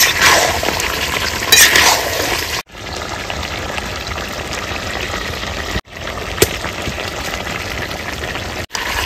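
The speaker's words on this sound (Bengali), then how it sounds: "আর একটু কষিয়ে নেব সুন্দর করে।" Duck meat frying and stirring with spices in a pan in a village kitchen, a steady loud sizzle with scraping strokes and a few brief breaks.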